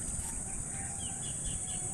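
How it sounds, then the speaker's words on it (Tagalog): Faint bird calls and chirps drift in from a distance over a steady outdoor hum of insects and ambient noise. "yan ang tumutunog yung mga ibon no?"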